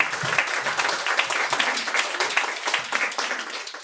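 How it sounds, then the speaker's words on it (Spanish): An audience at a university panel discussion claps steadily for several seconds, a dense, fairly loud patter of many hands with no voices over it. "Entonces les pido un aplauso para ella,"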